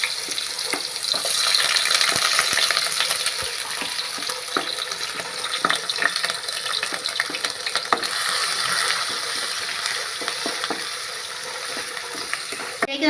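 Ginger and garlic fry in hot oil with cinnamon in a pan while cooking chicken stew, giving a steady bright sizzle with scattered crackles and stirring clatter throughout, moderately close, with faint talk.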